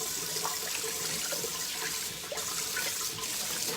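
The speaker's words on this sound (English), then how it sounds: "So again, just hot water and a sponge." Hot tap water streams steadily over a cast iron pan during cleaning with a sponge, a constant close hiss and splash with small clinks, no talking.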